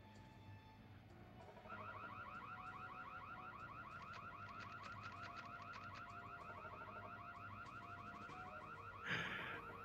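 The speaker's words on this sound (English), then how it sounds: "Why does the alarm go off when I come in?" An electronic alarm sounds in a game, a loud rapid warbling tone pulsing steadily for about eight seconds after a quieter start, ending with a sharp burst of noise.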